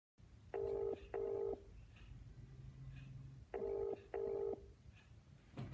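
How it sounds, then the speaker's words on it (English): A telephone is dialed with four clear, evenly paired keypad tones, close and distinct over a low steady hum, with no talk. "Let me call my friend and see if she responds."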